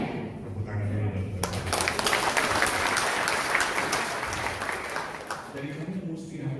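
A seminar audience breaks into dense, sustained applause after a brief voice, the clapping staying loud and even before tapering slightly.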